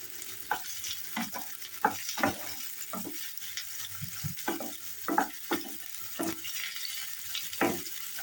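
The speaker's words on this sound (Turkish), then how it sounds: "Biraz daha biberle soğanla birlikte kavuracağım." Steady frying sizzle of peppers and onions in a pan, broken by repeated scraping and clattering strokes of a utensil stirring the food.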